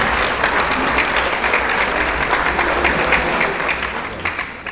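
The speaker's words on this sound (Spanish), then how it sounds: "Otro aplauso." A bar audience at a talk with a tenor claps in sustained, even applause, dense and close, fading slightly toward the end.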